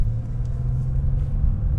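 Tuned Mercedes C63S AMG with a VRTuned tuning box on a city-street test drive, a steady deep low engine rumble heard from inside the car, loud and continuous without speech.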